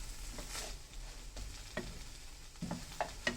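Tuna frying in a pan while being stirred, with a soft continuous sizzle broken by scraping stir strokes and occasional small pops, close and fairly quiet.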